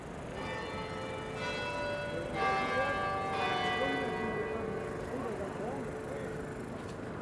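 Church bells of St. Thomas Church in Manhattan ring out over city street noise, several resonant peals sounding in sequence while people talk nearby.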